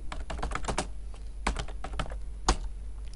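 Fingers tap out a short line of code on a computer keyboard, with quiet, uneven clusters of key clicks and a few firmer keystrokes, close and soft, with no voices.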